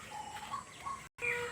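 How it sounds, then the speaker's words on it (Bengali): Outdoors beside a muddy, disused playing field, a bird gives a few brief faint whistled calls over quiet ambient noise, with a short cut of silence before a final call. "আর ওইদিকে ডাক পাখি ডাকছে"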